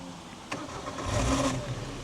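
A Geo Metro stick-shift car engine cranks briefly and catches, rising into a short rev before settling, heard close and alone.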